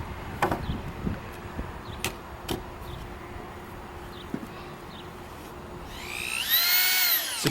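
A power drill drives 3-inch screws into the cross-support studs of a wooden halfpipe frame. Scattered knocks and taps lead into a short, rising whir of the drill spinning up near the end, close by.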